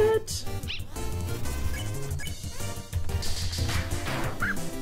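Lesser Dog barking in Undertale, several short yaps and whimpers over looping game music.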